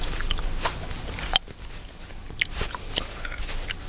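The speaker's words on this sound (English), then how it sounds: "can you hear the way I'm chewing bubblegum?" Bubblegum chewed close to a microphone in an ASMR setting gives soft, irregular wet clicks and smacks over faint background hiss.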